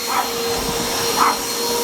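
A brand-new vacuum cleaner runs with a steady broadband roar and a thin whining hum, plus a couple of short, odd squeaky bursts riding on top of the motor noise, close and loud with no talk.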